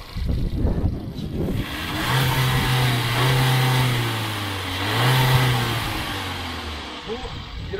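A VW Passat 1.4 TSI or Opel Insignia 1.4 Turbo engine is revved twice, close and loud, each rise and fall clear, with people talking over the start and between revs.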